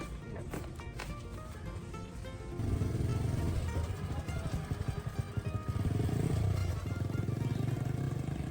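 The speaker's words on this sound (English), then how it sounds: "As the motorbike rolled down the road" A motorbike rolls down a road, its steady engine drone louder and fuller from midway, with no talk over it.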